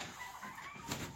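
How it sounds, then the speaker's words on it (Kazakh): A young turkey chick of a common local breed gives a short burst of faint, thin chirps, quiet and close, with no talking over it. "қарапайым Күркетауықтың, жайдары Күркетауықтың балапаны"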